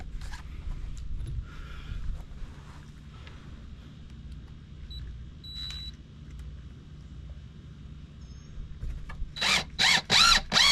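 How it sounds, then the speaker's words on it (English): A power drill drives screws back into a floor to fix a hole. After a long, quiet stretch of low room hum, several short whirring bursts come close together near the end, with no talking. "let's go ahead and stick them screws back in where I had them at"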